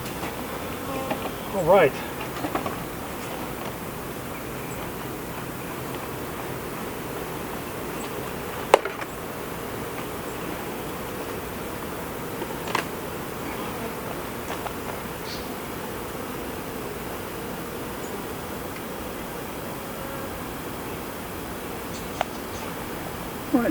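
Honey bees buzzing around an open beehive during a varroa mite inspection, a constant hum with faint clicks and handling knocks of the frames, and someone briefly speaking.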